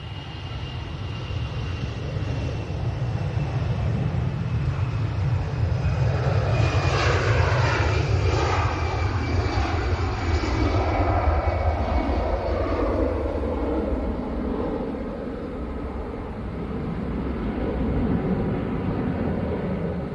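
An Atlas Air Boeing 747 jet at Manchester Airport roars loudly and continuously, its engine noise swelling and shifting as it passes, with no talking over it.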